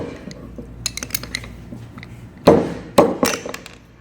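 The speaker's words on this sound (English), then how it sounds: "I'm going to insert the wedge puller and remove the wedge that's holding the coil in." A wedge puller works a coil wedge loose from an aircraft magneto, giving small metallic taps and clicks followed by two louder sharp knocks as the wedge pops free.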